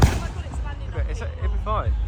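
Fireworks boom and crackle at the opening of a Christmas celebration in El Nido, Philippines, several dull bursts in a row mixed with an excited crowd's cheering and shouting.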